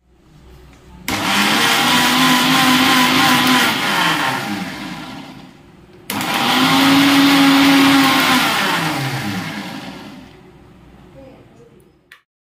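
A mixer grinder grinding masala paste whirs loudly in two long runs, separated by a brief pause, with a steady high-pitched motor drone that stops abruptly at the end.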